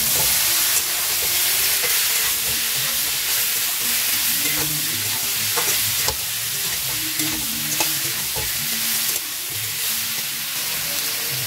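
Chickpeas frying in a pan for a Bengali pumpkin chokka, a steady loud sizzle with repeated scraping stir strokes throughout and no talking.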